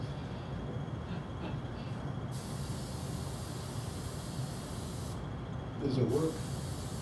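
Hairspray sprayed into a light beam, a continuous hissing spray under a steady background hiss, with a brief louder rustle near the end and no clear talk.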